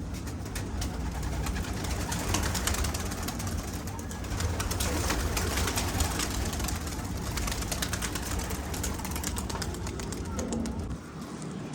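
Pigeons at a pigeon club coo and flutter in a continuous dense bed of bird noise, with a voice talking over them throughout.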